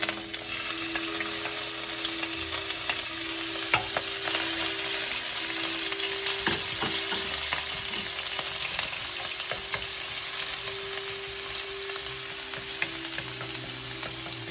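Ginger, garlic and green chili fry in a couple of spoons of hot oil for Indo-Chinese idli manchurian, a steady close sizzle with occasional stirring scrapes and no talking.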